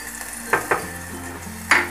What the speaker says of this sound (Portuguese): aí eu vou colocar um dente de alho.